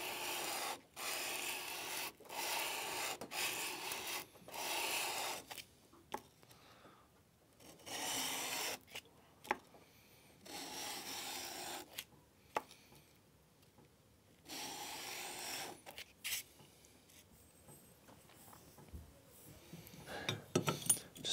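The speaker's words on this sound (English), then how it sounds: "I'm just going to flatten these on some sandpaper on this stone that I have" Hand plane frog parts from a Stanley No. 4 being flattened on sandpaper laid over a stone, a quiet close rasping scrub in repeated strokes separated by brief pauses.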